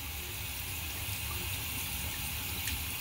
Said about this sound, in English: just warm running water